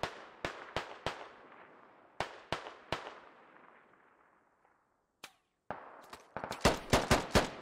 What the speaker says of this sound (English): INS force is starting to shoot back now with a little bit more confidence